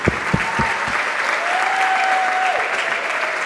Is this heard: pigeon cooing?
no